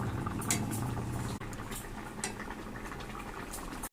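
A thin hilsa fish curry with potato and eggplant bubbles in a pot, a continuous close simmering burble with a short break before the boiling carries on steadily to the end.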